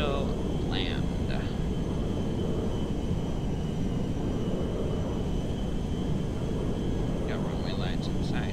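A fixed-wing airplane coming in to land at Zancudo in the FiveM (GTA V) game, its engine a constant, loud broadband drone filling the whole clip with a few faint chirps on top.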